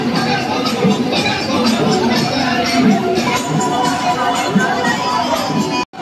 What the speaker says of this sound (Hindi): ज्यादा भीड़ है।